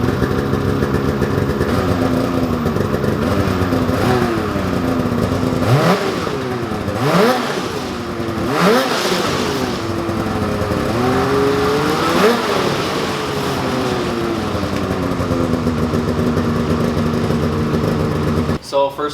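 Motorcycle engine with its stock exhaust idling steadily, then blipped through several sharp revs that rise and fall before settling back to idle, close and loud, with a faint voice underneath.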